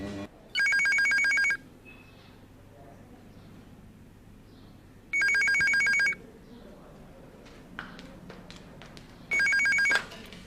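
An electronic telephone rings in a TV drama scene, three separate bursts of a bright trilling ring about two seconds apart with quiet room sound and faint movement in between.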